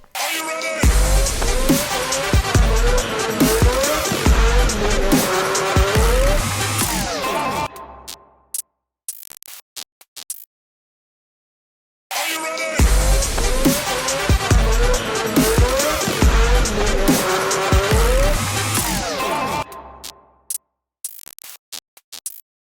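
Racing karts at a celebrity race event accelerate and corner in two long loud bursts of engine whine with tire squeal, each fading out into near silence with scattered ticks.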